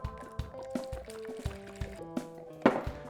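Water is poured into a cooking pot holding peppers and sugar for a syrup, heard as a string of soft drips and splashes in an uneven rhythm, close by and quiet, with no talking.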